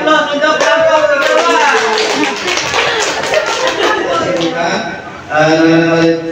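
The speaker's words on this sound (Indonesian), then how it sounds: "Beri aplaus untuk kelompok" Audience applause for a presenting group at a teacher training workshop, a dense, loud wash of many hands clapping that swells and carries on steadily for several seconds, with a voice talking over it near the end.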